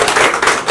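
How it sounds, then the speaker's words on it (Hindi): Audience clapping at a Bhojpuri film event for UGNA Entertainment, a dense, steady patter of many hands filling the short moment without a break. "जोरदार ताली मदद करें"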